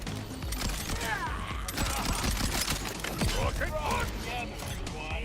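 Weapon fire and rocket-punch blasts in the Borderlands game, a steady barrage of crackling shots and impacts under continuous talking.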